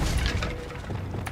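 Incendio fire spell cast in Hogwarts Legacy, a short whooshing burst of flame with a heavy low boom at the start that fades over about a second, ending in a faint crackle.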